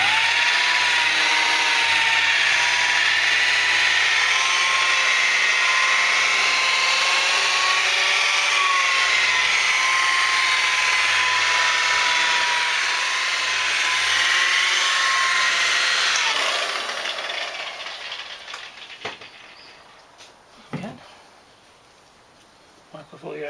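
A machine polisher runs on the painted bonnet of a Toyota Carina E barn find, a loud steady whine with slight pitch wavers for about sixteen seconds before spinning down, followed by a few faint handling knocks.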